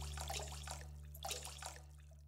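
In the Bakery Simulator video game, water is poured into bread dough as a soft, quiet, steady trickling splash over a low background hum, with no one talking.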